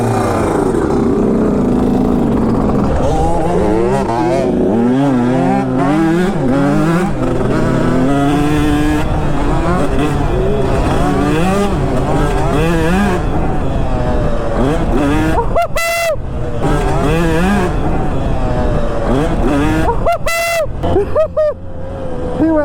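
A Honda CR125 two-stroke dirt bike rides ahead on a motocross track, its engine screaming and warbling loudly through constant revs and shifts, with another bike close behind and a sharp throttle chop near the end.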